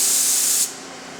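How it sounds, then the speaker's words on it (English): A paint spray gun lays down a full test pattern with a loud, steady high hiss lasting over half a second, then cutting off abruptly into quiet room tone. "First thing we're going to do is spray a test pattern."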